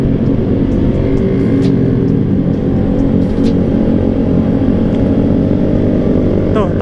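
A Honda Vario 150 scooter engine drones steadily and loudly up close, a constant low motor hum with rushing wind noise, as the rider accelerates on a test ride.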